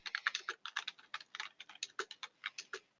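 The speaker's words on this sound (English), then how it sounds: "somebody's keyboard is really loud." Rapid, loud clicking of computer keys being typed, close by, in uneven bursts with brief pauses and no talking.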